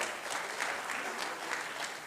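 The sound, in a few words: audience clapping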